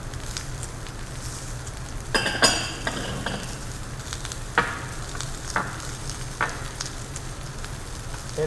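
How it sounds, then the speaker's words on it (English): Vegetables stir frying in a pan for coconut curry with chicken, a soft continuous sizzle under repeated scraping and clinking stirs at irregular intervals. "I'm just going to stir fry my vegetables"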